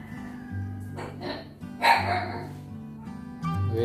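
A dog gives a few short barks and yips close by while food is being eaten, sounding like begging, with a faint whimper between barks and some background noise.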